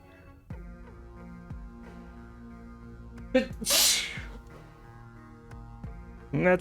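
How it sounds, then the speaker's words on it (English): A single loud sneeze erupts in the middle, preceded by a sharp inhale, with quiet video game music playing steadily underneath. "I'm gonna sneeze."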